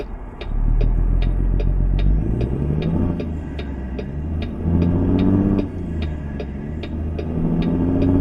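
A car passes within American Truck Simulator as a Kenworth T600 with an N14 engine drives along, a brief rising whoosh over the truck's loud, steady engine drone and regular clicking ticks.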